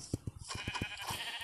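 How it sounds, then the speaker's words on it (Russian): Sheep bleating in Minecraft during survival play, a quick series of short pulsing bleats close up, followed by a brighter wavering tone, brief and fairly faint. "иди сюда, овца"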